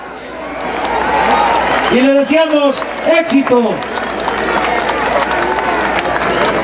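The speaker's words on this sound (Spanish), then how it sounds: "desde aquí le enviamos un aplauso al doctor Mancera" Crowd applauding and cheering at a Mexico City political rally, a dense wash of clapping throughout with an announcer's amplified voice speaking over it in the middle.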